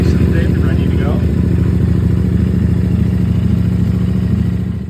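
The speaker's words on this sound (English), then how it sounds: "You want to start the bike up to warm it up before you do your oil change." A CFMOTO 450SS motorcycle engine running after startup and warming up before an oil change, a loud, close, steady idle with a low rumbling pulse that eases slightly toward the end.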